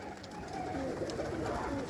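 Pigeons cooing near a flock of birds, a soft continuous low murmur of coos running steadily under faint background noise.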